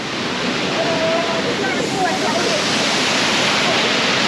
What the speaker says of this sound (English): Yeah, so that's a nice waterfall.